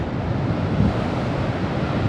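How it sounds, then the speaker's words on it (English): Surf and gusting wind on a rough day at the New South Wales Central Coast near a lighthouse, a steady, dense roar of breaking waves with wind buffeting the microphone, no voices. "It's nice to see the ocean."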